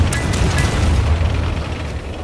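A high-explosive shell slams into a tank in World of Tanks with a loud, deep boom, followed by a rumbling low-end tail that fades over a couple of seconds.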